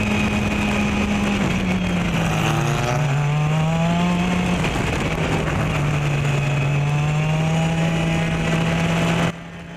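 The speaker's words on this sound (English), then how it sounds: "a 2004 Pro Formula Mazda, and we are on the formation lap" Engine of a 2004 Pro Formula Mazda race car on the formation lap of an SCCA regional race, a steady droning in-car note with revs sliding gradually lower and higher, loud throughout until a sudden cut.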